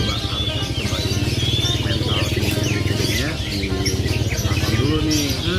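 A lovebird of the Konslet variety gives repeated bright chirps and short warbles over a constant low droning hum, close by and moderately loud.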